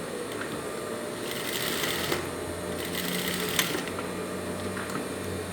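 Sewing machine topstitching over a seam of men's boxer shorts, a steady rapid mechanical whirring with fine ticking clicks close by, running continuously with brief sharper clacks.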